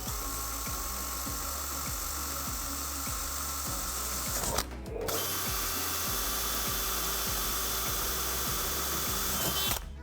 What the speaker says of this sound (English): Now we drilled both sides